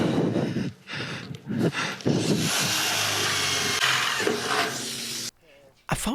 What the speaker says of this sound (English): So let's get on with the drilling above the bottom